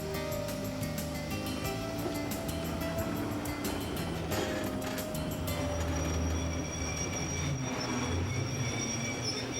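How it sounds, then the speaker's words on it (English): A passenger train pulls into Mallaig station in the West Highlands of Scotland, with a steady loud rumble, wheel squeal and rail clatter close by throughout. "the train arrives at Mallaig."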